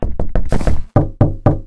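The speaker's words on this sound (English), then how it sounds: "Who's knocking this late at night?" Knocking on a door in the video game Minecraft: a fast burst of loud wooden knocks, a brief pause, then three slower, evenly spaced heavy knocks, close and alone.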